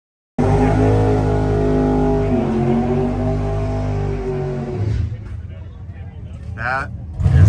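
A supercharged, methanol-fuelled small-block drag racing car engine at a drag strip, a loud steady idling drone that fades after a few seconds, with people talking over it.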